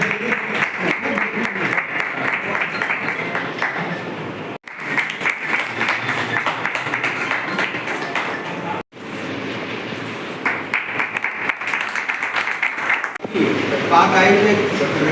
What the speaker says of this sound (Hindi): प्लीज एक बार जोर से ताली बजा के